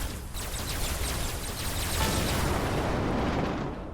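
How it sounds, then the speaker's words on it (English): A WebXR video game explosion effect sounds as a dense, sustained roaring burst with crackling debris, loud and continuous throughout with a slight swell midway, with no speech over it. "I like the little explosion effect too."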